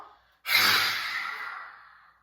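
A single long exhale during a breathing exercise with arm swings and a hip hinge, breathy and close, starting abruptly and fading slowly over about two seconds with no talking.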